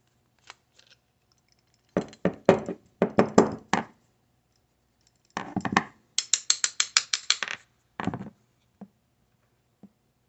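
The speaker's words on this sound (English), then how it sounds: "loosening up the main jet now." Close, crisp bursts of rapid metallic clicking as a main jet is loosened on the carburetor of a Husqvarna PW 3200 power washer, with short pauses between the runs.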